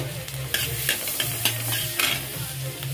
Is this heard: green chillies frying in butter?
yes